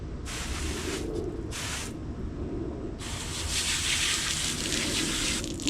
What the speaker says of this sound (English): Ooh, that water's hot coming out of that hose.